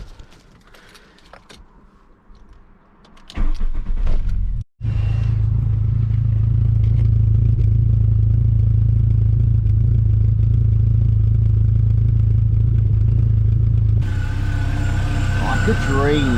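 A Volkswagen Golf MK3 GTI engine cranks and fires after some quiet clatter, then settles into a loud, steady idle with a strong low rumble that continues to the end.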